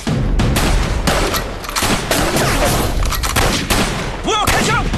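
Loud gunfire in an anti-Japanese war film: dense, rapid bursts of shots crack one after another at close range, with a few whizzing ricochet-like streaks near the end.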